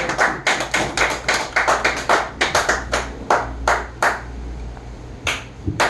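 Lecture audience at a personal finance seminar breaks into applause, a dense run of claps from a small crowd that thins out and tapers off toward the end.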